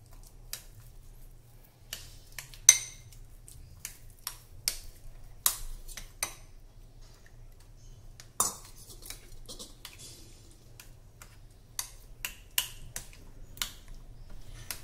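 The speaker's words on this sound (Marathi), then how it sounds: "ह्या गुळवणी सोबत हे व्यवस्थित मिक्स करून घेऊ।" A spoon scrapes and taps against a bowl while rajgira is stirred into jaggery water, producing irregular, sharp clinks and scrapes at close range over a quiet background, with no talk.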